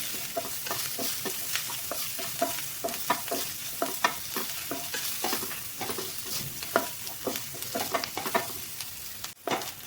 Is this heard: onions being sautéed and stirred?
yes